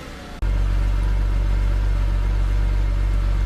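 A BMW N52 engine runs just after a cold start, catching abruptly and settling into a loud, steady, low idle drone that continues unbroken.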